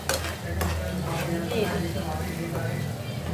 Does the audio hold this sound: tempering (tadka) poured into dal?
yes